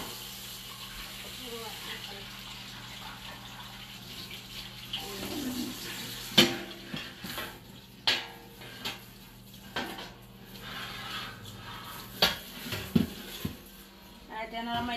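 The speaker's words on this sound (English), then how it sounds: "So y'all get to see me do the dishes." Dishes are washed by hand in a kitchen sink under running tap water, with scattered clinks and knocks of plates and utensils against the steady trickle of water, and a voice talks at points over it.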